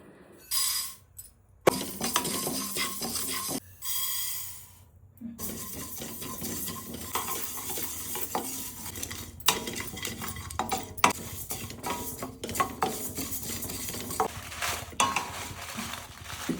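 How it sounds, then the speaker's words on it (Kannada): Spices dry roasting in a pan for a chicken pickle, with a spoon scraping and clinking against the metal in a steady, close stirring rhythm and short pauses between strokes. "ಇವಾಗ ಇದನ್ನ ಡ್ರೈ ರೋಸ್ಟ್ ಚೆನ್ನಾಗಿ ಮಾಡ್ಕೊಂಡ್ ಬರ್ತೀವಿ."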